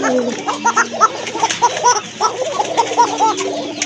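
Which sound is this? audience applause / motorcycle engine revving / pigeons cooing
pigeons cooing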